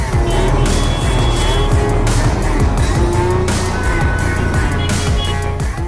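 Heavy road traffic fills the streets of Karachi with a loud, continuous wash of engines, tyre noise and passing vehicles, with tonal horn-like notes cutting through now and then.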